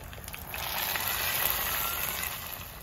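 Tempering spluttering in hot oil for a mixed vegetable sambar, a steady broadband sizzle at moderate level that swells after the first half second and holds evenly, with no voices.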